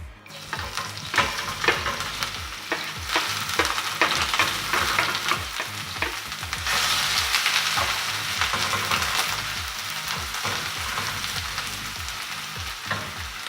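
A large, finely sliced onion fries in two tablespoons of oil over medium-high heat, with a constant bright sizzle and rapid, repeated stirring scrapes close up that grow busier midway.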